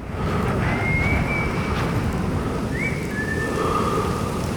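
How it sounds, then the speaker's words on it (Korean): Faint, drawn-out whistled notes rise and glide over a constant heavy rushing noise of a worsening snowstorm outdoors. "어디선가 계속 휘파람 소리가 들려옵니다."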